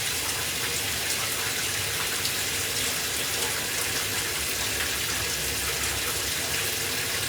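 Rainforest ambience carrying a steady, continuous rush of running water with dense broadband hiss, even and unbroken throughout, no voices present.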